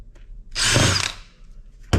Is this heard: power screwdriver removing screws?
yes